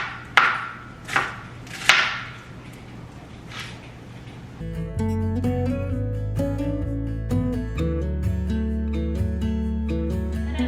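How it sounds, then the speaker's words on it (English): A knife chops onions on a cutting board while beef enchiladas are prepared, giving a few loud, spaced chopping strikes before steady background music takes over. "Chopped up all the onions."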